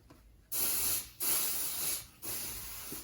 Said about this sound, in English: Now, clean the old soldering iron up a little bit.